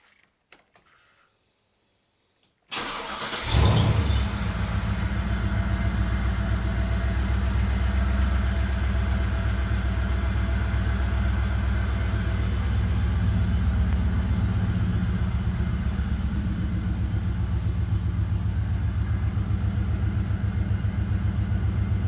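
An old V8 Holden ute cranks briefly after near silence, then catches and settles into a steady, loud, rumbling idle that runs on evenly for the rest of the time, with no talking.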